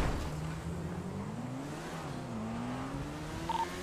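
A car in GTA brakes and swings through a U-turn on a freeway, its engine droning and shifting pitch as it slows and turns, with faint tire noise under a constant road hum.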